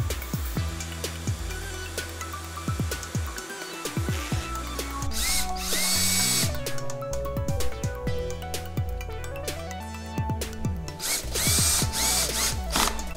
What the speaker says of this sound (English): it's better to use a shop vac to suck up all the wood that comes out when you're drilling the holes